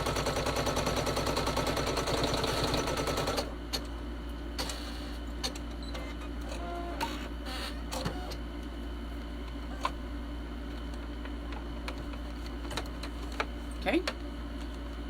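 A sewing machine stitches down elastic on a small fabric credit card holder, running in a fast, close, rhythmic burst for a few seconds, then falling to scattered faint ticks and clicks.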